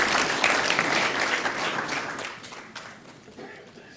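Steady applause from an audience at a Bawku conflict mediation committee event, dense clapping filling the room before gradually thinning and fading out over a few seconds.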